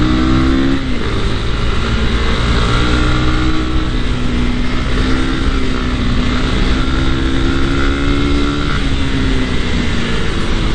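Honda CB300R motorcycle engine running steadily while riding on a road, a loud continuous drone with shifting pitch as revs change, close and unbroken throughout with no talking.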